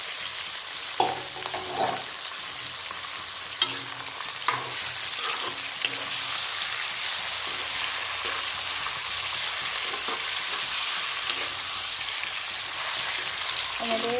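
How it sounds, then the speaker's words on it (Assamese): Mutton pieces fry in a pan over onions browned in oil for an Assamese mutton curry, giving a loud, continuous sizzle with repeated scraping and clinking from stirring throughout. "ভজা হৈ গৈছে, এতিয়া মাংসখিনি দি ভাজি ল'ম।"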